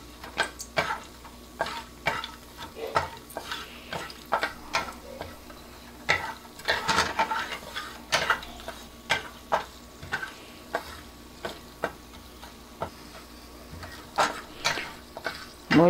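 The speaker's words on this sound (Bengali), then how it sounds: "এটাকে আমি তেলের মধ্যে দিয়ে দিচ্ছি। দিয়ে এটাকে ভালো করে নেড়ে চেড়ে ভেজে নেব।" Cinnamon, green cardamom and a clove stir-fried in hot oil for a restaurant-style paneer tikka masala, with a steady soft sizzle broken by repeated sharp scrapes and clicks of a spoon against the pan, close and without talk.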